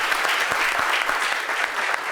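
Steady audience applause fills the whole stretch, a dense even patter of many hands clapping at once, fairly close and loud with no voices over it.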